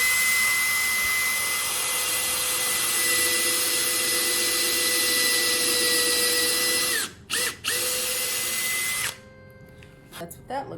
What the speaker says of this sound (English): This one will actually drill your pilot hole and make your little indent into the wood for your screw